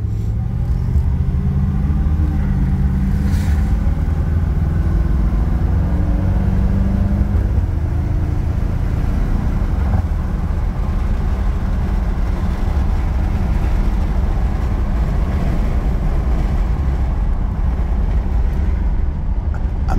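A 1989 Aston Martin Lagonda Series 4 on the road, its steady, loud engine and tyre rumble droning on continuously with no talking.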